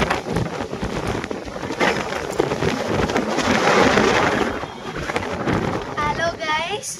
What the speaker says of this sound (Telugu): గాలి అది చాలా చాలా ఎక్కువగా ఉంది.